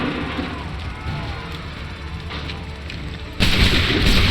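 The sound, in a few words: cannon fire in video game Assassin's Creed 3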